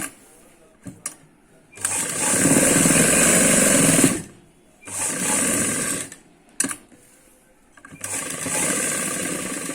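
A sewing machine stitches palazzo pants in bursts, with loud, steady runs of a few seconds each separated by short pauses and small clicks.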